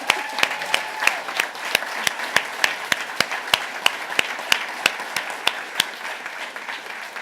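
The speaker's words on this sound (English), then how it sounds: "So please join me in a round of applause for our councillors." An audience applauds councillors at a Peterborough mayor-elect's speech, a continuous patter of many hands with a few sharp louder claps standing out near the microphone, moderately loud and without voices.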